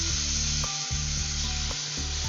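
Mustard paste sizzles in a pan with lightly fried eggplant, a continuous close hiss overlaid by a low rhythmic scraping that repeats roughly once a second, no one speaking.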